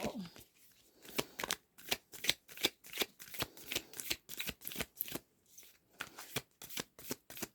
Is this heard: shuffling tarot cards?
yes